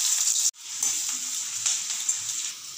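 Sliced onion sizzles steadily in hot oil in a wok along with dried chillies and whole cumin, a bright continuous frying hiss with a brief stir break and soft clinks, fairly close, with no talk.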